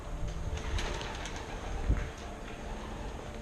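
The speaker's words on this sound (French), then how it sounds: "Oh, le pigeon, il m'a fait peur." Pigeons disturbed inside an abandoned distillery, with soft coos and faint wing movement under a broad hiss of room noise and a couple of low thumps.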